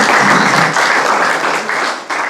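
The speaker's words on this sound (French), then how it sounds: "On peut vous applaudir, non?" Audience at a building trades federation hearing for regional election candidates applauding a speaker, a loud, full burst of clapping from a sizeable crowd that dips briefly near the end.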